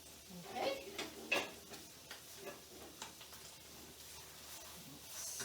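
Kale and pasta ingredients sizzle faintly in a pan with occasional stirring scrapes and clinks, a soft, low-level cooking hiss throughout.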